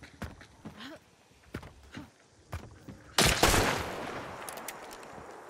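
Pistol gunfire in a multiplayer shooter video game, with a few scattered sharp shots early on followed by a loud burst of gunfire at about the midpoint that trails off into softer reports.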